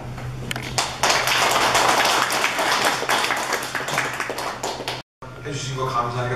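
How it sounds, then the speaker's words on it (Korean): Clapping from members at a Seoul National University alumni association general meeting in Georgia, dense and sustained with a low hum beneath, cutting out abruptly near the end before a voice resumes speaking. "다시 한번 박수를 좀"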